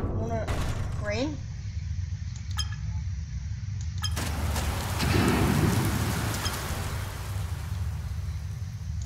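Steady hiss of rain in the video game People Playground pattering over a surface, with faint voice-like sounds early on and a thicker, louder rush partway through.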